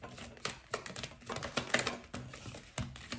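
Tarot cards being reshuffled by hand, a quick irregular series of soft close riffling taps and clicks, fairly quiet, with no talking.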